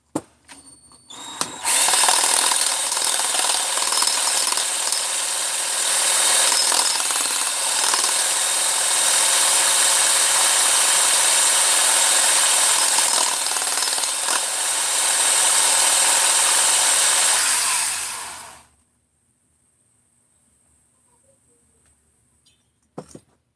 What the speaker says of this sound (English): let's go back to my Scotch-Brite